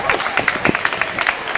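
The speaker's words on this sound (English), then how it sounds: "can we give a round of applause to the guys who just danced again?" Crowd clapping for a group of dancers right after a flashmob performance, a dense patter of many hands at close range, fairly steady and loud throughout.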